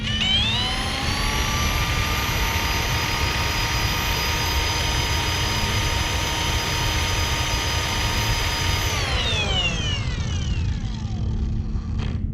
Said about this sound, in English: Would you look at that? Persian pad washer.